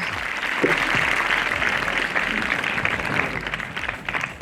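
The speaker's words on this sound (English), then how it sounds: "Give him a big round of applause." At a school investiture ceremony, an audience applauds the student discipline in charge with sustained, fairly loud clapping and a faint murmur of voices underneath.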